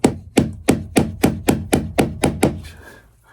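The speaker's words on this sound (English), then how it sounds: "I'm going to use a little tack hammer." A small tack hammer taps nine times in a steady, even rhythm during a squealer installation, each strike sharp and close, before the blows stop and a faint ringing tail fades out.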